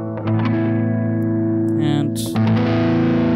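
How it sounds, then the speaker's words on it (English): An electric guitar plays through the drive amp-modeling distortion of a Steinberg UR824 audio interface, giving sustained, gritty chords with a reverberant tail and a brief tonal change partway, close and loud, with a spoken word at the start. "now let's try the drive algorithm"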